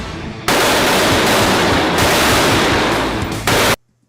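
An AK rifle fires a sustained burst of automatic gunfire, loud and close, about three seconds of continuous rapid shots that stop abruptly and leave near silence.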